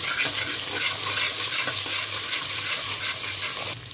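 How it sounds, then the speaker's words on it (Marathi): Garlic-ginger paste sautés with browned onion in a pan for a village-style mutton curry, a steady, close sizzle and frying hiss with faint stirring scrapes, no talking. "त्यामध्ये आता लसूण अद्रकची पेस्ट टाकून पेस्ट छान परतून घ्यायची आहे"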